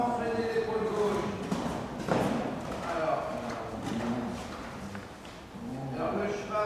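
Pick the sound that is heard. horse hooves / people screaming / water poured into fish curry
horse hooves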